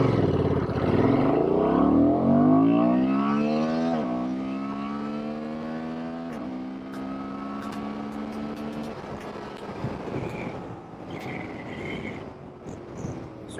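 A 2024 Honda Transalp motorcycle engine revs up through first to third gear using a quick shifter, pitch climbing steadily with brief dips at each shift, then settling into a steady drone with wind noise on a ride in Idaho.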